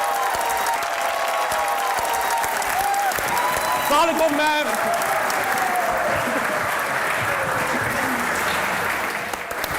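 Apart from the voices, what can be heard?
audience applause for guests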